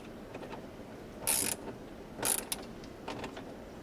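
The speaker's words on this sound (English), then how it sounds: "now we're just gonna take the socket wrench and tighten it up" Socket wrench ratcheting as it tightens a brace bolt during an AFE Magnum FLOW Pro 5R air filter install on a Supra, heard as two or three short, close bursts of rapid clicking over a quiet background hiss.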